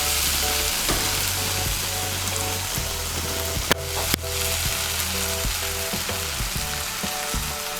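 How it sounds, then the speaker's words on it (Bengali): Semolina (suji) fries in a pan with winter vegetables while being stirred, giving a loud, steady sizzle broken by scraping strokes and a couple of sharp utensil clicks. "সুজিটাকে মিশিয়ে নেব ভালো করে সবজির সঙ্গে। মিশিয়ে নিয়ে সুজিটাকে আরেকটু ভেজে নেব।"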